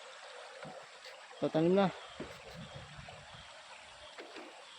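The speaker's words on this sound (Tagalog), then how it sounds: "Ilog to" A river stream runs through a farm and campsite, giving a soft, steady wash of flowing water under a man's brief spoken remarks.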